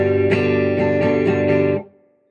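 Electric guitar on a Strat/Les Paul hybrid with very hot pickups, strummed four times in a steady rhythm, the chord thick and overdriven with a gritty distortion, then cut off into a brief fading ring; no voice.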